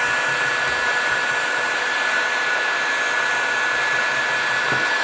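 A heat tool blows steadily while warming old glue on a Boulle cabinet during restoration. The airflow gives a loud, constant whooshing hiss with a faint whine, unbroken from start to finish.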